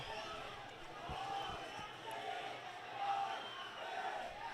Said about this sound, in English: the crowd here wants a yellow card